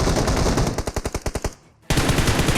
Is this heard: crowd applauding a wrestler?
no